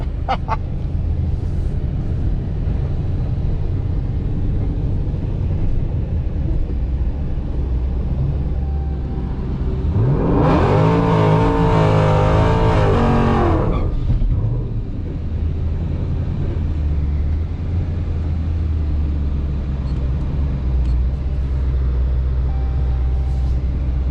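Engines rev hard in a video-game drag race against a Volkswagen Golf, a steady mechanical drone swelling into a loud, rising roar for a few seconds before settling back, with no voices.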